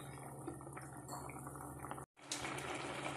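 Water in a pot of semiya (vermicelli) simmers steadily as it cooks down for kesari, a continuous soft bubbling hiss. A brief silent gap breaks the sound, then it resumes.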